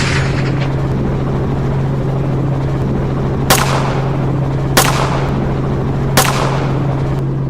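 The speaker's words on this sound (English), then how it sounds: "using semi-automatic rifles like R-15s or 12-gauge shotguns" Three loud single shots from semi-automatic rifles or 12-gauge shotguns fired at wild boar from a moving helicopter, spaced a second or so apart over a steady rotor drone.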